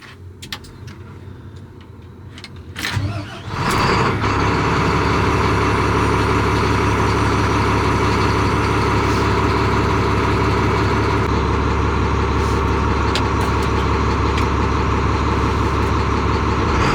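A rock truck's heavy diesel engine cranks and catches, then settles into a loud, steady low rumble that continues at close range.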